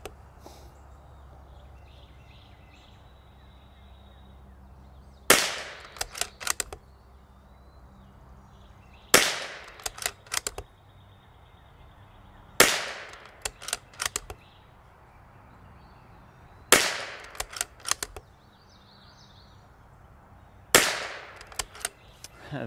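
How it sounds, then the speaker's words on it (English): Five sharp rifle shots from a Bergara B14R Heavy fired with match ammunition, evenly spaced about four seconds apart, each loud crack followed by a brief rattling echo, with quiet outdoor background between. "So we're also gonna shoot the special match again."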